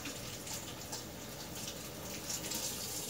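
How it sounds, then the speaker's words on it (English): Tap water runs steadily into a sink as hands are rinsed of raw egg, a continuous close splashing hiss through the whole moment while baking a pumpkin cheesecake. "Rinse my hands off because I got some egg on me."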